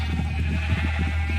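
A white sheep in Minecraft bleats in short, repeated wavering calls over a steady low background hum, close and fairly loud, with no speech.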